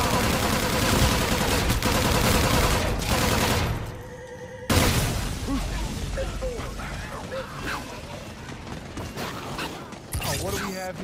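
Rapid gunfire from the Call of Duty zombies mode on the Zombies in Spectrumland map, dense and loud, with a brief lull midway before the shooting and mechanical clatter resume, voices mixed in.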